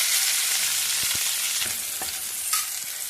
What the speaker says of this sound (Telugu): ఆయిల్ వేసి ఇప్పుడు ఉల్లిపాయలు అన్నీ వేపుకుంటారు